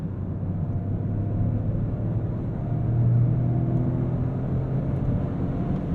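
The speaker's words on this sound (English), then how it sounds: "all of these noises, the exhaust, the blow-off, the rumble, it gives you this sense of theater to the car" A 2023 Toyota GR Corolla Core on the move, its exhaust giving a steady low rumble with a constant drone of road and engine noise that swells briefly around the middle before settling back.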